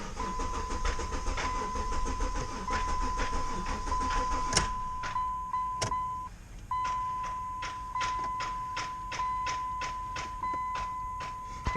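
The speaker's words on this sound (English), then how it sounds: "I'm hearing a bunch of relays click." A steady engine hum with a high whine, then a rapid series of sharp relay clicks from a car that won't start, repeating at a steady rhythm, close and distinct.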